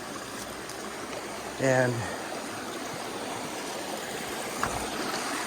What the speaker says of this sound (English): when I see that water stream like that, there's something magical about that, the way it flows